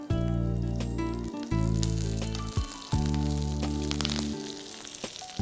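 Curry leaves sizzle in hot oil with ginger and garlic while a pickle is being made, a loud close steady hiss broken by a few short gaps, with no talk over it.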